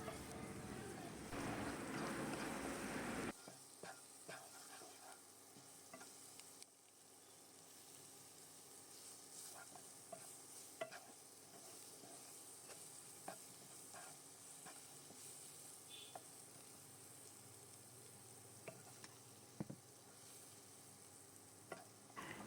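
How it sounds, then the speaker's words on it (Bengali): Chopped onion and garlic sizzle and fry in a pan while being stirred for a chicken stew, a loud burst of frying at first settling into a steady quieter sizzle with intermittent scraping stirs. "এর মধ্যে পেঁয়াজের কুচি, রসুন কুচি দিয়ে ভালো করে একটু ভেজে নিতে হবে"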